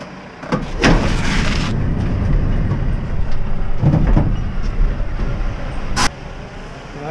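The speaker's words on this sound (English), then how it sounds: "I'm going to move the truck a little bit more forward to get that pin to lock into that hole." A semi truck's engine rumbles loudly up close as it creeps forward to lock the sliding tandem pins, with a couple of heavy clunks and hisses along the way and a sharp air burst near the end.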